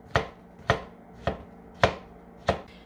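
A knife chops shiitake mushrooms on a cutting board, five sharp, evenly spaced cuts about half a second apart, close and clear with no talking.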